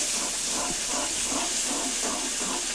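A paste of cashews, melon seeds and poppy seeds stirred in a pan with fried onion gives a loud, constant hiss, with faint rhythmic scraping strokes underneath and no voices.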